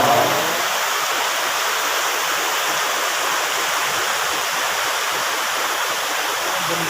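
A flowing stream with a nearby waterfall, a loud, steady rushing hiss of water that runs unbroken and close throughout.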